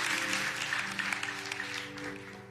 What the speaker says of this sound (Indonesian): Boleh gak kasih tepuk tangan buat Tuhan yang gak pernah meninggal.